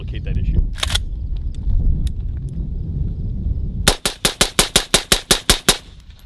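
AR-15 rifle fitted with an Xtreme Performance Bolt fired fast from a full 28-round magazine: a single shot, then a rapid, evenly spaced string of about a dozen loud, sharp reports, with people talking beforehand.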